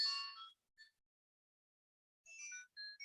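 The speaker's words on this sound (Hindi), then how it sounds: "किसी का फोन आ रहा है देख।" A mobile phone ringtone plays in the background of a Hindi biology lesson, with faint electronic melodic tones in two short bursts separated by a long silent gap.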